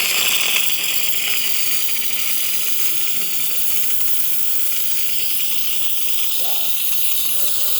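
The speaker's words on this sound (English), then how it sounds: "Excellent steam coming out from the machine," Steam from a Philips espresso machine with a thermoblock, a loud, steady, continuous hiss lasting the whole stretch without a break.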